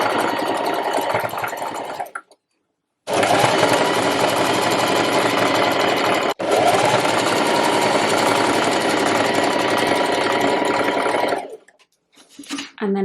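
A sewing machine runs a straight stitch along a trouser seam with a 1 cm allowance, a steady close whirring rattle in two long bursts split by a brief pause, with a short stop near the end.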